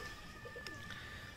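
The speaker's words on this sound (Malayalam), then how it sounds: "ഇതൊക്കെ നമ്മൾ അടുത്ത സീസണിലേക്കുള്ള പ്രാവളാണ് കേട്ടോ" Pigeons in a loft give soft, low cooing, faint and brief against a steady background hum.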